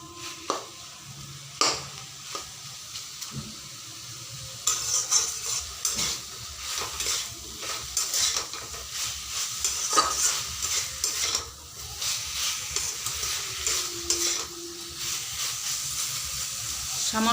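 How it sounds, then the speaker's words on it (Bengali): Black mustard seeds fry lightly in a pan with a constant crackling sizzle and hiss, broken by repeated scraping stirs of a utensil against the metal; a voice is faintly present at times. "হালকা একটুই ভাজবো, কারণ কালো সর্ষে বেশি ভাজলে তিতো হয়ে যায়।"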